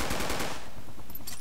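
Rapid automatic gunfire in the Project Reality military shooter, a dense burst of loud, close shots in the first half that thins into scattered distant cracks and battlefield noise.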